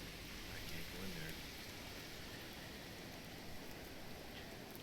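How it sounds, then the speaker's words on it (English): Rain falls steadily in a survival video game, a continuous soft hiss with no clear breaks. "It begins to rain."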